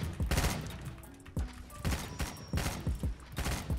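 Gunshots in the Roblox game Da Hood during a raid, a rapid string of punchy, close shots with short gaps between, loud and irregular, with faint game noises behind.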